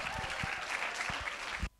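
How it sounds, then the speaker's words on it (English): A forum audience applauds steadily for a panel speaker, a dense, even patter of many hands that cuts off abruptly into near silence at the end. "can you please give him a round of applause"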